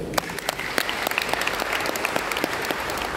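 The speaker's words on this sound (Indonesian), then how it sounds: "Tepuk tangan untuk beliau." A university audience at a speech by a former Indonesian minister breaks into steady, dense applause, with many overlapping claps sustained evenly throughout and no voices standing out.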